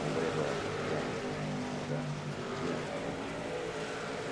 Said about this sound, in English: Barely hear you over the engines, by the way.